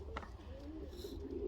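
Pigeons coo softly in a loft while young birds are ringed, a couple of low murmuring calls close by under a quiet background, with no clear speech.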